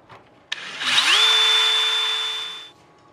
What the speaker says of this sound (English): And I will drill the other holes.